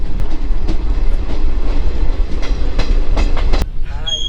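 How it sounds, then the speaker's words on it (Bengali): A train departing Azimganj railway station in Murshidabad, bound for Malda, rumbles along with steady low noise and a few sharp metallic clacks, then quiets at the end as a faint squeal rises. "ফাইনালি আমাদের ট্রেন সেই আজিমগঞ্জ থেকে ছেড়ে যাচ্ছে মালদার উদ্দেশ্যে"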